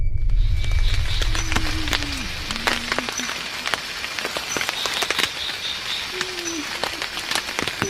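Steady rain patters across the whole clip, with scattered sharper drop hits and some low rumble at the start, no voices.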